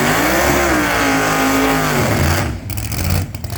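Graham Carter's Jaguar drag car at Meremere, a loud close engine roar that rises in pitch as it launches, then recedes and fades down the strip within a few seconds.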